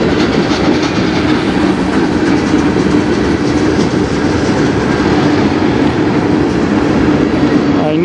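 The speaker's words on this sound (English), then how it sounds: "I knew there was a train over in the yard over there that was going to come over" A train rolls past close to a rail yard, a loud, steady rumble of wheels and cars with rhythmic clickety-clack running throughout, no voices.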